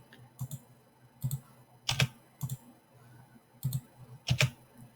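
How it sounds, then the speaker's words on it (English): Clicks from a computer mouse and a keyboard backspace key come in short paired bursts, about six close, fairly crisp clicks spread unevenly, with no talking. "I'm going to right click and click unlock, and then I'm going to click the backspace to make it"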